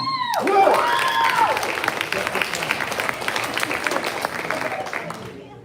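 Audience applause after a high school musical performance of Rock of Ages: loud, sustained clapping and some cheers filling the hall, opening with a brief vocal or musical flourish and slowly fading toward the end.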